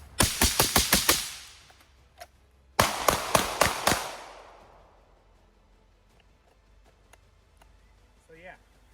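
Rapid rifle gunfire during a defensive shooting drill: two close, loud bursts of about six sharp shots each, separated by a short gap, with a single isolated shot between them and a brief voice near the end.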